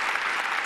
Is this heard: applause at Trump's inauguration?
yes